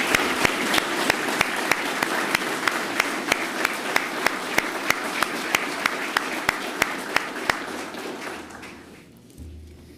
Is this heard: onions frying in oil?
no